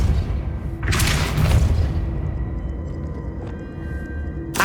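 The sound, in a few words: Depulso spell impact in video game Hogwarts Legacy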